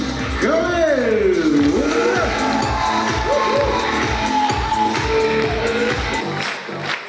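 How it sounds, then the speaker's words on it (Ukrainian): A crowd in a large venue at a team event cheers and applauds loudly, with a swelling voice or whoop rising over rhythmic clapping that settles into a steady beat before fading near the end. "По хорошій традиції команди аплодують глядачам"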